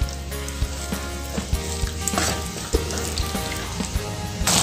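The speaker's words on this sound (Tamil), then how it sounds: "இப்போ அதை நல்லா மிக்ஸ் பண்ணி கொடுத்துக்கலாம்." Steady crackling sizzle of egg gravy masala frying in a pan, with occasional scraping clinks of a spoon stirring; close and continuous, no talking.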